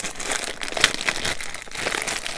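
A small plastic model kit bag for a Bandai 1:144 Jedi Starfighter is ripped open, giving a close, loud burst of crinkling and tearing plastic with no voices.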